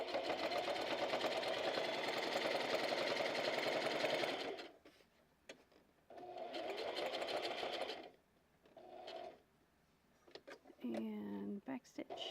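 A sewing machine runs in loud, fast bursts of stitching, including a short back stitch, separated by quiet pauses with small handling clicks and a brief voice near the end.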